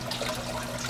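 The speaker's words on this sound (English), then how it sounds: "sucks the water through a siphon effect, and drains it down to the spout" Water from an aquarium filter drains through a black irrigation hose acting as a siphon from the bottom of a 9-inch-deep pot, producing a steady, close rushing trickle without pause.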